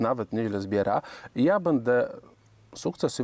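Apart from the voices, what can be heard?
None of the usual background noises is heard.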